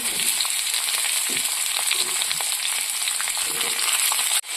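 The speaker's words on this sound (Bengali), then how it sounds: "এখানে আমি দিয়ে দেব গাজর, ক্যাপসিকাম, বেশি তেলে রান্না করব না, একটু সামান্য আলু" Carrot, capsicum and a little potato sizzle in a small amount of hot oil, a steady close frying hiss running the whole time with a brief clatter near the end.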